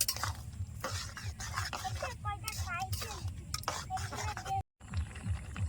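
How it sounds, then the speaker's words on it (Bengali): Peanut paste being stirred into an arum root curry in a sizzling pan, with repeated scraping strokes of a spoon against the pot, close and steady, over a constant frying hiss. "বাদাম বাটাটা দিয়ে ভালো করে মিশাই নেব"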